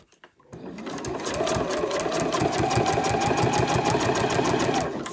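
A sewing machine stitches along the metallic side of gold fabric with white thread, starting after a brief pause and then running in a fast, even mechanical chatter close by for several seconds.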